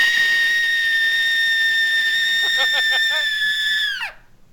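A voice imitates a WWE diva's scream, a loud, sustained, piercing shriek held for about four seconds with a whistle-like edge before it cuts off sharply.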